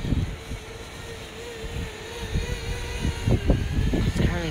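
Drone buzzing high overhead while fighting strong wind, a thin steady motor whine with shifting pitch, under loud gusty wind buffeting and rumble that swells and drops throughout.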